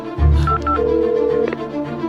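Telephone keypad tones sound as a number is dialed, a short run of distinct beeps including a longer sustained tone, fairly close and clear with no talking over them.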